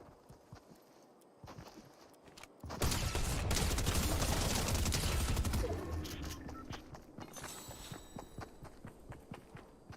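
A combat SMG fires in Fortnite gameplay as a loud, dense burst lasting about three seconds, set against quieter game sounds before and after.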